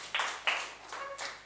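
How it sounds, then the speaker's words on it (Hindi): Several quick bursts of clapping from a classroom of children, short uneven rounds spaced across the moment, moderately loud and close with no talk over them. "बहुत अच्छा, शाबाश, इसके लिए ताली नहीं बजानी?"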